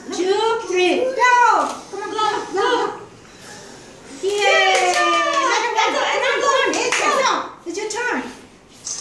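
Children at a school birthday party with cupcakes clap and cheer, with light rhythmic clapping mixed into lively kids' voices and adult talk, near and busy.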